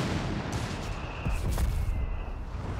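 Mortar fire in Company of Heroes 3 rains down as a dense, continuous rumble of muffled booms and crackling impacts, fairly loud and with no voices.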